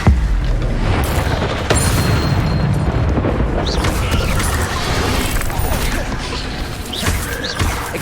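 Expelliarmus disarming spell cast in the Hogwarts Legacy video game, a loud booming magical blast with a rumbling crash that stays dense and sustained amid ongoing combat effects, with faint voices.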